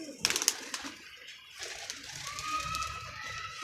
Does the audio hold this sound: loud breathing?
no